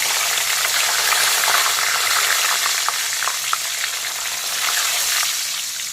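Nigella seeds and bay leaf crackling in hot mustard-style oil left from frying parshe fish and green banana, a steady close sizzle with small pops throughout, no voices.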